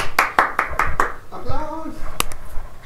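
A quick run of about six sharp hand claps opens, followed by a brief voice and a couple of later claps close by.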